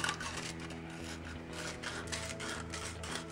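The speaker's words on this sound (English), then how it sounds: "you'll want to grab some sandpaper and clean out the inside" Sandpaper rubbing and scouring the inside of a copper pipe, a dense close scratchy rasp continuing steadily for a few seconds at low level, with no talk.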